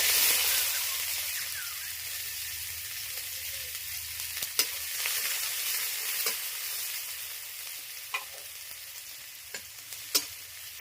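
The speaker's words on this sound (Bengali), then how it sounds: "পেঁয়াজ দিচ্ছি" Sliced onions fry in a pan with panch phoron while being stirred for a potato curry, a steady close sizzle with occasional sharp clicks and scrapes of the spatula, no talk.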